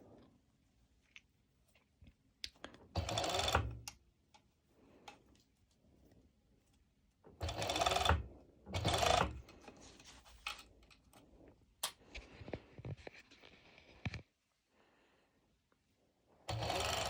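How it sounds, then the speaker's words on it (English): A serger stitches a fabric band for pole dance wear in several short, loud bursts of rapid whirring, separated by quiet pauses and faint ticking handling sounds. "I'm going to serge it just like this"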